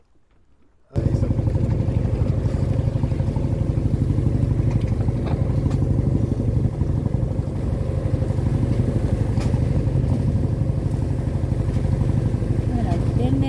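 A sailboat's large engine drones steadily and loudly throughout, a constant low rumble with mechanical clatter, starting abruptly after a second of near silence.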